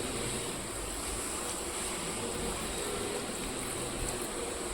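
Water pours or runs onto washed spinach in a pot for boiling, a continuous, fairly close rushing splash that holds steady for the whole moment.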